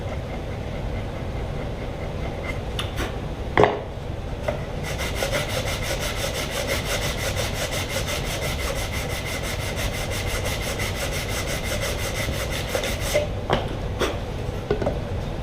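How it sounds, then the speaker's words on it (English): A wood chisel and a block of sandpaper scrape glue squeeze-out off a ukulele being built, making a steady, close rasping rub that runs almost continuously, broken by a few sharp scrapes and knocks. "I'm just going to take off with a wood chisel and maybe a block of sandpaper."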